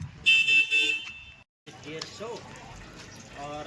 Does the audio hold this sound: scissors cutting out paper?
no